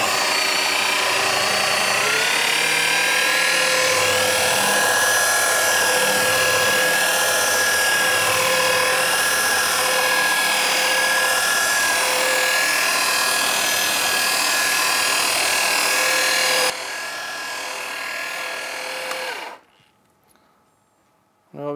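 A car polishing machine runs loud and steady during a three-step polish, a continuous whirring drone that shifts pitch slightly, then drops in level and stops near the end.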